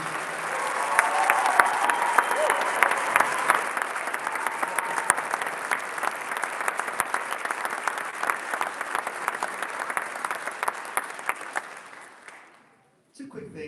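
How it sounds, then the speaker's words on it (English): Audience at a high school spring band concert applauding the students on stage, sustained dense clapping filling the hall for about twelve seconds before abruptly cutting off. "I would like to give one more round of applause for the students on stage."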